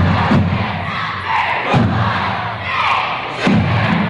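A high school student body packs a gym for a state football championship celebration, roaring and cheering in loud, swelling waves with periodic thumps, the crowd noise dense and close.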